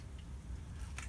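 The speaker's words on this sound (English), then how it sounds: "I heard it squirt" A brief wet squirt of oil spurting from a motorcycle front fork tube during spring installation on a Sportster Sport 1200 build, a short close squish alone with no talk.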